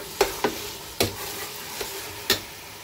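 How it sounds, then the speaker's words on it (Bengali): Mutton sautéing in a pan for kosha, a soft frying sizzle broken by five or six sharp scraping knocks of a spatula against the pan at uneven intervals, close and without speech. "আর এইদিকে মাংসটা আমার কষা কষা হচ্ছে"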